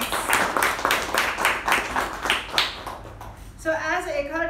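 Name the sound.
audience applause for the speakers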